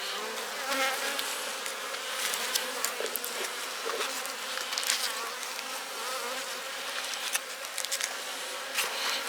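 Many honeybees buzz continuously around a hive being prepared for a snow and ice storm, a dense humming swarm with individual bees droning past close by.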